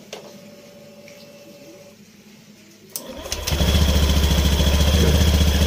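A Honda Beat scooter with a new, upgraded CVT is started on its electric starter: a brief whir of the starter, then the engine catches and settles into a loud, steady, pulsing idle.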